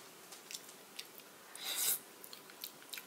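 Someone eats cold scrambled egg with a soft, porridge-like texture, in a quiet room; faint close chewing and small mouth clicks recur, with one louder wet squish near the middle.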